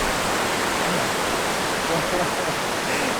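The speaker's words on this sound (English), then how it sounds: "This is the point where the river is coming out from underneath the glacier." Meltwater river in Pakistan rushes out from beneath a glacier, a loud, steady broadband roar of churning water close at hand, unbroken throughout.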